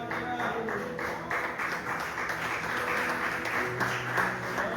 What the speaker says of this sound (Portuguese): glorificando a Jesus com palmas essa noite